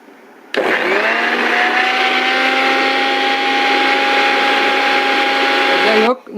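A mixer grinder runs at full speed, grinding neem and tulsi leaves with a little water in its jar: a loud, steady motor whine that starts abruptly, holds for about six seconds and cuts off, with no talk over it.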